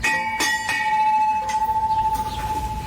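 Metal garden chimes struck several times, bright ringing tones with sharp onsets that overlap and linger, fairly close and loud, with no voices.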